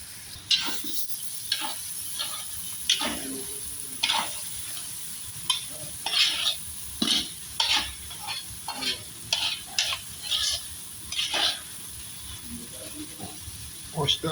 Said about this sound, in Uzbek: Go'shtimiz bilan piyozimiz qovurildi